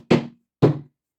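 Two separate hollow knocks on a plaster slip casting mould, about half a second apart, close and fairly loud, each a dull thunk with a short decay, with no talking.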